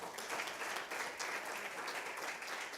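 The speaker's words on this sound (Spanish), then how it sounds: "¿Cuánto le dan un aplauso a Jesús?" Congregation clapping in a church service, a full, continuous round of applause from many people at moderate level lasting a few seconds, with no speech over it.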